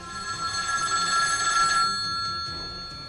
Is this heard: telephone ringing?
yes